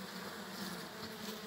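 Buckfast honeybees buzzing at an open hive, a dense steady drone of many insects close by with no pauses.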